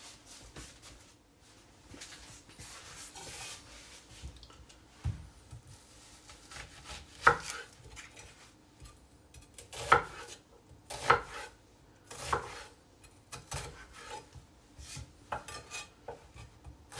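Knife chopping onions on a board for French onion soup, a series of distinct, fairly close cuts spread irregularly across the stretch with quieter rustling between, no talk.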